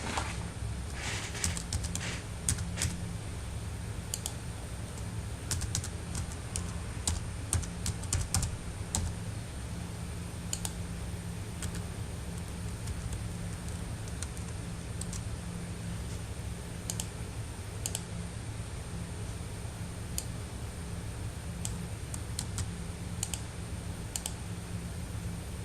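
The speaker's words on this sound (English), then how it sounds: "Begin typing your information into the table." Rapid, steady typing on a computer keyboard in a quiet room, close and continuous with dense clicking keystrokes and no voices.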